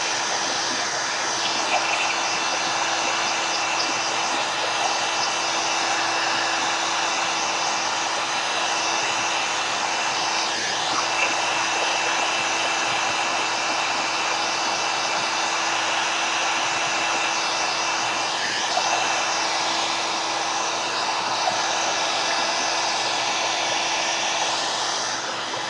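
A hair dryer blows steadily on craft work, a loud, continuous airy whir that holds for the whole stretch with only slight wavering.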